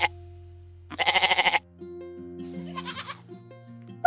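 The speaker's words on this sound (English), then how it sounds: "It's a sound of a goat." Bleating from a farm goat: a loud wavering call comes first, then a later, fainter, quavering bleat. Between the calls there is a low steady hum but no talk.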